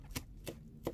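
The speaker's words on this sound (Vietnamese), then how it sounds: "chúng ta phải bằm cái phần củ hành tím ra" A knife mincing crushed purple shallots on a cutting board gives three sharp, evenly spaced chops close by, quiet overall, with no talking.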